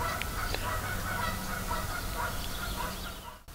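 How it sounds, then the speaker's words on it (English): Birds call in a morning garden, steady honking and gobbling fowl voices layered over a continuous outdoor background, with no talking. "You can hear the birds chirping."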